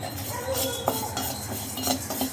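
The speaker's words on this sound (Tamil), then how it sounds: "அடுத்து நம்ம அரிசியை வறுத்துக்கலாம் அரிசி வந்து நல்லா பொரியணும்" Rice dry-roasting in a pan for idli podi, stirred so grains rattle and a utensil clinks and scrapes against the metal in a steady, close, busy run with no voices.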